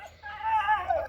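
A dog lets out a short, high whining howl, rising and wavering for about a second, close and fairly quiet.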